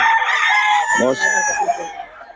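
A Boston Sweater gamefowl rooster crows loud and close in one long, strained call that breaks and trails off into rough clucking notes.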